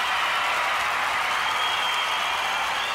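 A studio audience applauds on the 1995 Australian Gladiators TV show. The clapping is dense and steady, sustained at an even level throughout, with no voices standing out.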